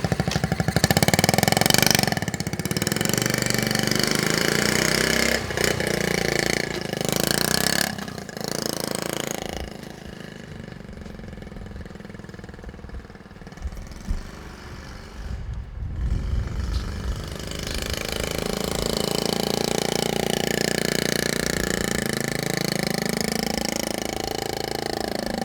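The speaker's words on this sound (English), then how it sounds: "The bike runs and operates perfectly." A restored 1971 Honda Z50 Mini Trail small motorcycle engine runs nearby with a steady, loud putter, easing lower for a stretch in the middle before rising again, with no talking.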